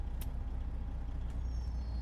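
A Mack Pinnacle truck in American Truck Simulator idles with a deep, steady engine rumble, while short air-brake hisses burst briefly over it, one sharper near the start.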